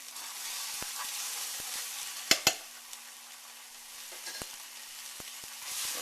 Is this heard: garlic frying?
yes